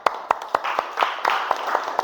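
Classroom clapping for a student group, a run of about nine crisp, evenly spaced claps at a brisk rhythm, close and clear over a faint background murmur.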